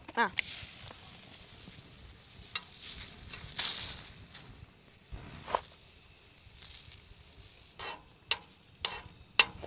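A chapati cooks on a pan over an outdoor campfire, giving a faint, low sizzle broken by scattered soft scrapes and clicks, with quiet background activity throughout.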